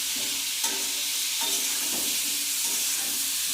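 Potatoes fry in an iron wok with a steady, even sizzle and soft hiss, broken by a few faint clinks of stirring, close by and without talk.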